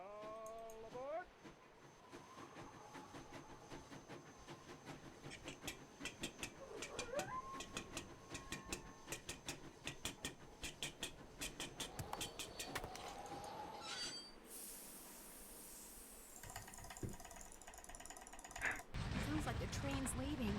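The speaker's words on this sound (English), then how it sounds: "Sounds like the train's leaving." A train departing in the Nancy Drew: Last Train to Blue Moon Canyon video game, with rhythmic clanking of wheels and cars, squeals and a rising rumble, mixed with a cat's meows and brief voices.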